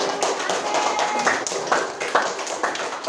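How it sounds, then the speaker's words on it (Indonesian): Classroom applause from students in an Islamic senior high school (MA) lesson, a steady spread of many hands clapping at moderate volume, with a few louder sharp bursts and no talking. "Kasih dulu aplaus ya, luar biasa."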